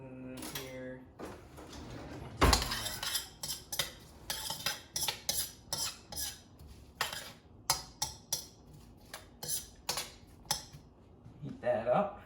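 A metal spoon clinks and scrapes repeatedly against pots while cooking collard and mustard greens in a home kitchen, a close, busy string of sharp taps and rattles with a voice speaking at the start and end.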